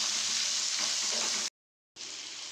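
Potatoes frying in a pan for a chili garlic potato dish give off a loud, even hiss with faint stirring underneath, cut by a short silent gap before the sizzle resumes.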